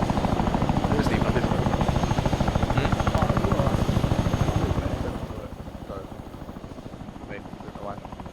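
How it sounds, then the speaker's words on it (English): Chinook helicopter rotors spooled up in the Arma 3 video game, a loud steady rhythmic thumping drone that drops somewhat in level partway through, with voices talking faintly over it. "I just want to leave the Chinook spooled up for the multiple people."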